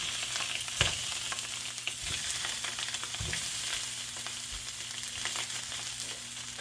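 Food sizzles in a still-hot pan with a little leftover flavor, a steady close frying hiss with a few soft bumps as pieces are rolled about.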